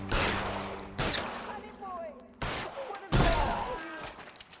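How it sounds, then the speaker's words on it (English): Gunfire in LA Noire during a standoff with a cop killer: several sharp, loud shots at irregular intervals, each decaying into reverberant noise, with faint voices mixed underneath. "I shot the legs"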